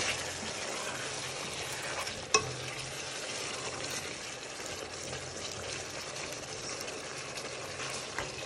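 Mutton and potatoes frying in a pan for a palak gosht dish, giving a steady, dense sizzle throughout with one sharp clack partway through and no speech.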